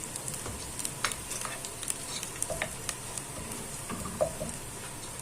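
Seafood with onion sizzles and crackles steadily in a frying pan in a home kitchen, with occasional scraping and tapping as it is stirred, fairly quiet and close with no talking.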